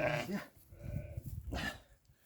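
A newborn female lamb of about 4.2 kg on a farm gives two short, close bleats about a second apart, with faint rustling in between.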